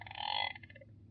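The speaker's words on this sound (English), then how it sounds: "She continued this way until she heard a heavy croaking" A single deep, heavy croak from a big frog in a pond, short and fairly close, fading into a low murmur.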